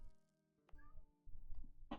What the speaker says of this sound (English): Okay, stop whining, cat.